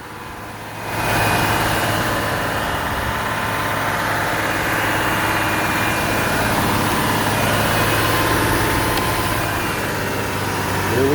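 A 2006 Chevy Trailblazer engine idles after an AMSOIL Power Foam intake cleaning, a steady low rumbling hum close by that swells slightly after the first second and then holds even, with no talking.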